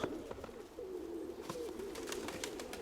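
Racing pigeons cooing close by in a loft, a low repeated throaty coo running continuously with occasional sharper clicks and flutters.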